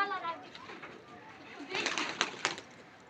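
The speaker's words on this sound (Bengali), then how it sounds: "এই যে কবুতর, এখানে ওরা দৌড়াদৌড়ি করছে, বন্ধুদের সাথে আড্ডা দিচ্ছে।" Pigeons coo softly nearby in a few low, rolling calls, with children's playful voices and other chatter in the background that grow busier toward the end.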